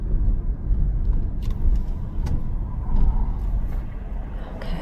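Steady car traffic rolling past on a busy road beside a strip mall on 27th Ave, a continuous low rumble that swells as vehicles go by, with no talk.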